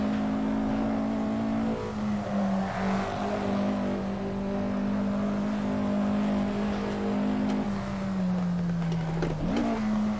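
A Porsche GT3 Cup race car engine in a racing video game holds a loud, steady, buzzing drone with slight pitch dips, then makes a quick shift-like blip near the end.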